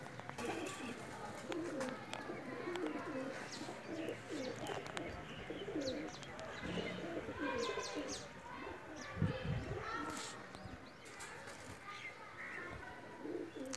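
Pakistani flying pigeons coo in a close, continuous chorus of soft, throaty, overlapping calls, with faint voices in the background.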